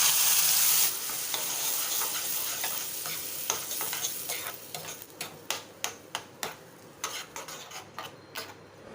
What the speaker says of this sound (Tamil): சேர்த்துட்டு இந்த ஆயிலோடைய ஹீட்லேயே நான் சட்னியை லைட்டாக வதக்கிக்கிறேன்